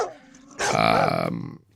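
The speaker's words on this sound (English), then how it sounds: "Dogs barking in the backyard." A dog barks in a backyard: one loud, drawn-out bark or yelp up close, with quieter background sound before and after.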